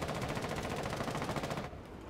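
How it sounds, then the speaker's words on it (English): Rapid automatic gunfire in the Rainbow Six Siege video game, a dense burst of rattling shots that stops short near the end, leaving fainter in-game background noise. "All my bullets went inside him, but he didn't die."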